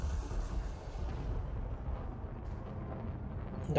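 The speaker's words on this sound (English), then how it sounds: "I will get the explosion." A Thargoid ship explodes in the space combat game Elite Dangerous, a sustained deep rumbling blast that fills the whole stretch with dense low roar, steady and loud without any talk.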